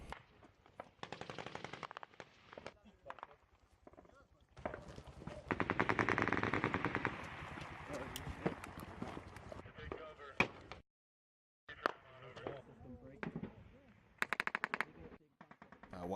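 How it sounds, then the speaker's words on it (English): Bursts of machine gun fire and small arms fire in combat in the Afghan mountains, rapid rattling volleys building into a loud sustained barrage, with a brief silent gap near the end before scattered shots resume; voices sound faintly underneath. "they opened up with a pretty good burst of machine gun fire from the west in the mountains"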